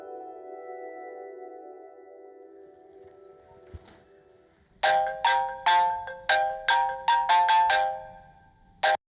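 A soft electronic tone hums, then a loud, bright mobile ringtone melody plays in rapid repeated bursts before cutting off.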